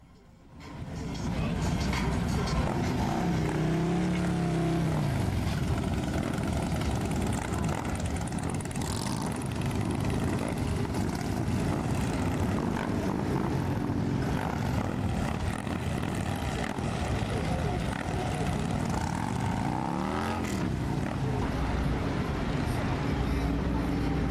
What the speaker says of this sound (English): So here we got some motorcycle action.